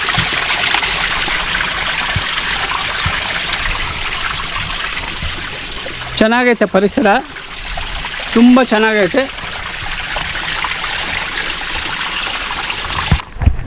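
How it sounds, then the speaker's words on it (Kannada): Steady rushing of the Uttara Pinakini river flowing near Benakanala temple fills the whole recording, with someone briefly talking over the water partway through. "ನೀರು ಹರಿಯೋ ಶಬ್ದ ನೀರು ಹರಿತಾವೆ"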